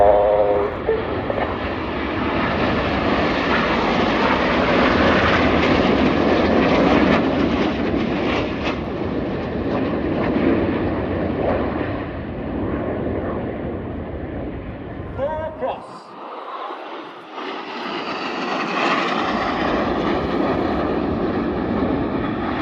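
Red Arrows jets fly in formation at the RIAT air show, a loud sustained jet roar that briefly dips and then swells again. An announcer talks over the noise.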